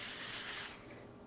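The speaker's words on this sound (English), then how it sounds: "I'm going to spray some plastic wrap." Cooking spray is sprayed onto plastic wrap in one short, soft hiss lasting under a second, close and quiet, then fading out.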